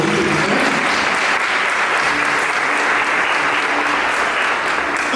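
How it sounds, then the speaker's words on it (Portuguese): A church congregation applauds during a Portuguese-language religious gathering. The clapping is loud, dense and sustained, filling the whole stretch without a break. "Vamos aplaudir a palavra de Deus"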